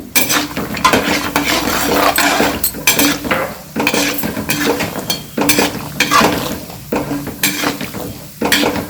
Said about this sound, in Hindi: काजू भूनेंगे